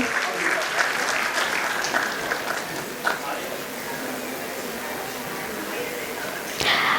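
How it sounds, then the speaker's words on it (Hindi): An audience at a school annual function claps steadily for a guest called to the stage, a continuous dense wash of applause with a sharp clap accent near the end. "एक बार जोरदार तालियां संतोष ग्वाला सर के लिए।"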